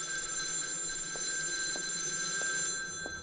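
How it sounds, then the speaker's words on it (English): A telephone rings in a PSX-style horror video game, a tonal electronic ring repeating in steady bursts, faint and somewhat distant, with no speech over it. "That sounds like it's coming from the water. Wherever that phone is, I don't know how to reach it."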